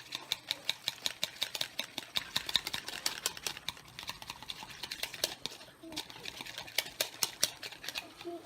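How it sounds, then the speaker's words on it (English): Small toy hand whisk stirring paint in a container, heard as quick light clicking and scraping taps in an uneven rhythm, close and faint, with a low hum underneath. "And then I'll just whisk all that together."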